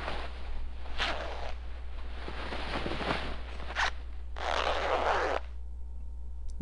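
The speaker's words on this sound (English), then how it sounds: "A lot of zippers on her clothes" Clothing zippers on a character changing costumes in the Resident Evil Director's Cut video game, a few quick rasping zips in separate bursts, the last one long and loud, over a steady low hum.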